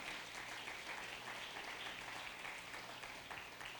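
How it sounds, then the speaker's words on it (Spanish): Congregation in a Spanish-language church service applauding God, a continuous, dense patter of many hands, faint and distant, with no break in it. "Denle un aplauso a Dios, vamos arriba."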